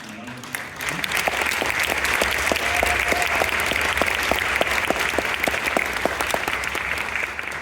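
Audience clapping steadily after a youth orchestra concert, a dense, sustained round of applause with a few sharper individual claps standing out, filling the hall without voices breaking through.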